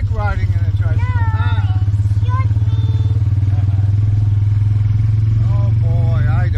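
A motorized tricycle engine drones loudly and steadily while riding, with a constant low throbbing rumble throughout and people talking over it close by.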